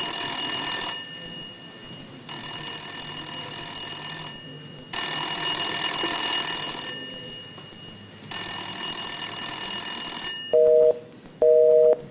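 A telephone bell rings loud and close in four long bursts separated by short pauses. Two brief lower beeps follow at the end.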